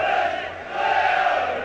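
Leeds United supporters cheer at a football match, a broad, continuous roar of massed voices from the stands, steady and distant.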